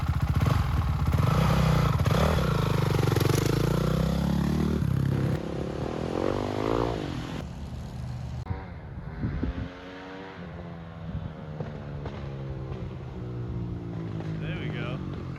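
A 2006 Honda CRF450R dirt bike is ridden up and down a street, its engine loud and revving with rising and falling pitch throughout, while a person talks over it.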